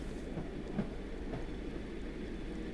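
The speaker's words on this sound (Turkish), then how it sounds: "Şehrin o bitmek bilmeyen uğultusu yerini rayların üzerinde ritmik bir melodiye bıraktı." A train rolls steadily along rails in a soft, continuous low rumble with faint rhythmic clicks, quiet and without voices.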